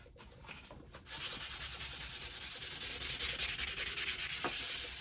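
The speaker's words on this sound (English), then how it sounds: "you just keep on sanding and sanding and sanding and sanding" Rapid back-and-forth sandpaper scratching on cardboard, for a cigar box guitar, starts after a brief pause, a steady rhythmic rasp that continues close and loud with no talking.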